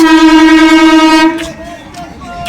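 A train sounds a loud, sustained horn as it arrives at Haroa Road station, one long harmonic blast that cuts off abruptly, leaving quieter station noise behind.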